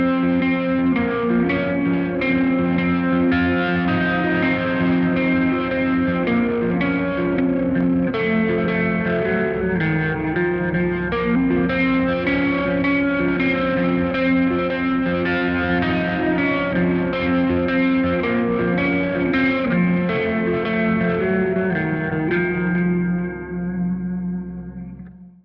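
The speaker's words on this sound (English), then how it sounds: "We're looking at the MD-500, which is absolutely insane in terms of the functionality and the sound quality and everything." Electric guitar played through a BOSS MD-500 modulation pedal, a continuous rich passage of chords and notes with swirling chorus, echo and reverb, loud and sustained before fading out at the very end.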